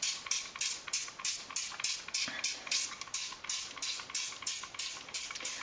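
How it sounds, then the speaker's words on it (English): Hand pump spray bottle misting liquid onto a dolls house side panel to soak and remove old wallpaper, a quick regular series of about fourteen close hissing squirts in steady rhythm. "let's just start by spraying that on to that side panel"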